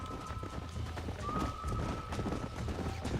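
Horses galloping in the video game Red Dead Redemption, a steady rhythmic clip-clop of hooves running continuously at moderate loudness, with a sustained whistle-like tone and other game sounds layered over it.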